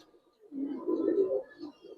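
Giribaz and coloured pigeons give a low, rolling coo that swells loud in the middle and then tapers off, close by and with no one talking.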